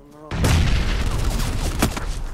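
A grenade blast followed by sustained gunfire in the video game PUBG on Xbox One X, a sudden loud boom giving way to dense, continuous shooting with a second sharp crack near the end.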